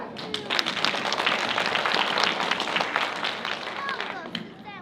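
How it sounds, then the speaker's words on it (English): Audience clapping at an elementary school English presentation, a dense, steady patter of many hands that runs the whole stretch before thinning out near the end. "A round of applause, everyone."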